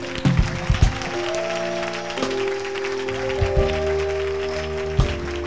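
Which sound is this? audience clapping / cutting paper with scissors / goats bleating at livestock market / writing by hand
audience clapping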